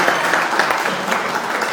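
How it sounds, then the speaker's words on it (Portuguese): Dense, steady clapping from an audience fills a short stretch, loud and even throughout with no voices standing out. "salve de palmas pro Márcio, por favor"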